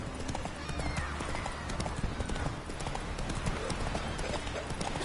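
Rhythmic clip-clop of horse hooves galloping in The Witcher video game, steady and close throughout with brief whinnying over game music and ambience.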